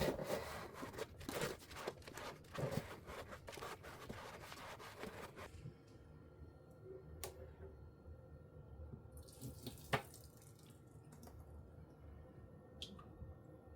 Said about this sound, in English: just warm water on this sponge